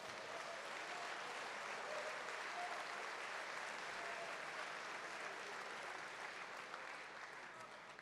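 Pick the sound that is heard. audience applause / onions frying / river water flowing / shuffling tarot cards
audience applause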